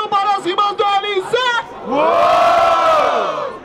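Audience at a Brazilian freestyle battle rap event in Barueri, São Paulo: a few rhythmic shouted syllables, then a loud, sustained crowd roar and cheer for a rapper, close and full.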